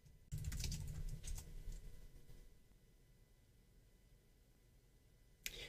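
Someone types a command on a computer keyboard, a burst of fairly close key clicks at the start followed by quieter scattered taps, with a final sharp keystroke near the end.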